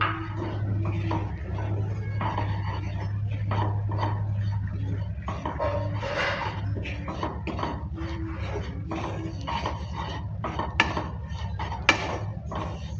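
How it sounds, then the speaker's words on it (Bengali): Dry semolina and besan (gram flour) being stirred in a pan over low-medium heat, a steady scraping and clinking of spoon against metal with a low hum underneath and a couple of sharper knocks near the end. "বেসনটা দেওয়ার পর ভালো করে আবারও নেড়ে চেড়ে নিচ্ছে"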